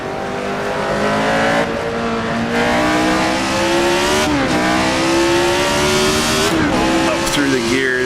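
A Tyrrell 002 race car engine roars loud and close in the Assetto Corsa game, climbing in pitch and briefly dropping at each upshift, with someone talking over it.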